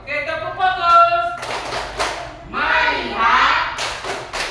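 A class of children performs a group focus clap routine, chanting voices followed by a few sharp collective claps and a louder chanted stretch, close and lively.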